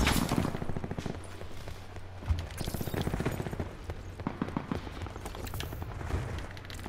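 Rapid bursts of automatic gunfire in the video game Alcatraz, dense clusters of shots repeating steadily over a low background hum, fairly loud throughout with no talk.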